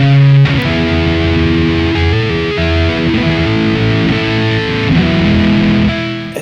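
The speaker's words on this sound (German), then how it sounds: "Das gleiche nochmal mit mehr Verzerrung." Marshall JCM 800 amp driving an electric guitar with heavier crunch distortion, sustained full chords ringing loud and dense throughout with several chord changes, no talking.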